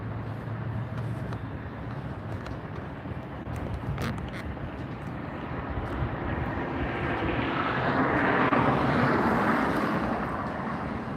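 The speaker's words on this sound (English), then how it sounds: "we're watching 2 aircraft come in right now on the left runway, the 24s" A jet airliner coming in to land on the left runway at LAX, a steady broad engine roar that grows louder and brighter as it nears, with wind noise over the microphone and no talking.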